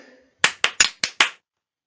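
Children clap their hands five times in a quick, uneven rhythm during a classroom listening game. The claps are crisp and close, each separate, and a soft voice is heard just before them.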